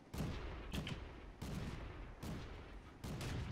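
Tank cannon and automatic gunfire in World of Tanks, loud booming bursts repeating roughly every three quarters of a second, each with a rattling tail, and no voices.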